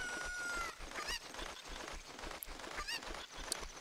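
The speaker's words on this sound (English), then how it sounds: "Now, I want to take this cuckoo with me" A cucco chicken in The Legend of Zelda: Ocarina of Time gives short clucking, honking calls at intervals over busy game sound effects and music.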